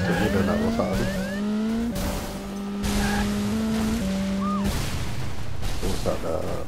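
Racing cars in the video game Smash Bandit Racing drone with steady engine tones that step up and down in pitch as gears shift, while an SUV spins out amid bursts of crashing noise and tire squeal.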